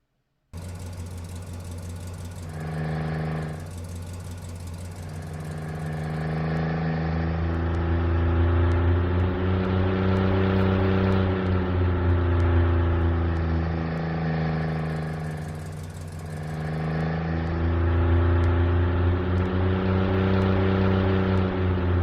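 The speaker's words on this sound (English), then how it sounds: "I'm going to have to delay this by some amount of time to allow this ignition to blend into the idle" A synthesized car engine built in Unreal MetaSound: a brief ignition burst rises into a steady humming idle with a layered low drone, swelling and settling, loud and continuous with a second ignition-like surge partway through.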